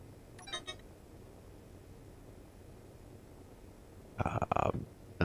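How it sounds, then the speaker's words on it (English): A mobile phone beeps twice, a short high chirp near the start and a louder double tone near the end, both faint over a low steady hum. "Sorry, that was my phone."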